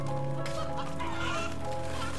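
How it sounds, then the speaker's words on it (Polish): Chickens cluck in the MediEvil video game, several close, busy hen calls and squawks overlapping over a steady game background hum for a couple of seconds. "najpierw musimy przegonić te kury"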